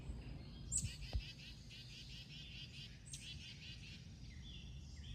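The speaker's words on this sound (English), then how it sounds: "Listen to those birds." Faint, high birdsong trills repeating in the distance over a low outdoor rumble, with a couple of brief knocks early on.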